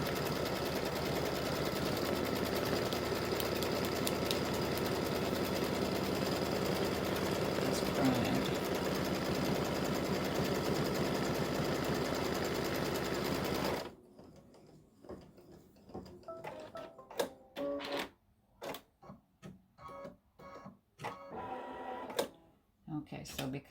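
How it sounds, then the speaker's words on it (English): A sewing machine runs continuously while stitching a quarter-inch seam on a mug rug side panel, a steady whirring hum for about fourteen seconds, then a stop followed by scattered handling clicks and rustles. "So this is stitching that 1/4 inch seam"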